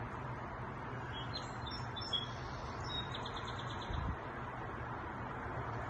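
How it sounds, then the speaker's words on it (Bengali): Birds call outdoors on a cloudy, breezy day: a few faint, scattered chirps drift in from a distance over a constant soft wind hiss. "তোমরা কি শুনতে পাচ্ছ কি সুন্দর পাখির ডাক আসছে?"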